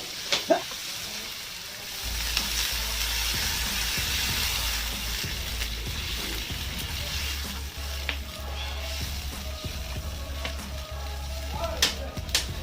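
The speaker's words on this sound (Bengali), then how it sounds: "আমার আদা বাটা দিয়ে কষানো হয়ে গেছে, জল দিয়ে দেবো" Ginger paste frying in a pan sizzles loudly and steadily, with water poured in, a low bubbling layer running underneath, and occasional utensil clinks.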